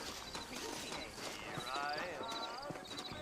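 Horse hooves clip-clop in Red Dead Redemption, set in New Orleans, with saddled horses waiting out front; a steady, moderately close trot of hoofbeats runs under voices, with a brief whinny-like tone midway.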